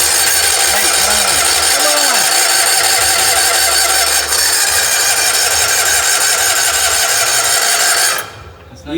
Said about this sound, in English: The fuel pump sounds really weak.